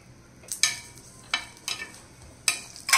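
Moringa paratha cooking on a hot griddle with ghee, giving short bursts of sizzling and frying that rise and fade several times, fairly close and moderately loud with no talk.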